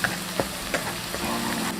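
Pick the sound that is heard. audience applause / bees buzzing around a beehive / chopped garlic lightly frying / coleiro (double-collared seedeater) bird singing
chopped garlic lightly frying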